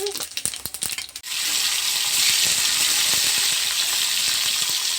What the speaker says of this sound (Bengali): এবার আমি তরকারিটা এই বড়ার তেলের মধ্যে বসিয়ে দেব